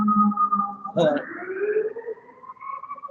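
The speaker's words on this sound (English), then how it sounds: "Sirens are courtesy of the New York Fire Department" Wailing New York Fire Department sirens rising and falling in pitch, with a sharp blast and overlapping tones, fairly loud and close.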